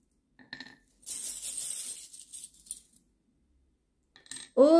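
Small oracle charms clink as they are drawn out during a card-and-charm reading, with a brief jingle early on, a longer metallic rattle through the middle, and a final bright chime right at the end, close and otherwise quiet.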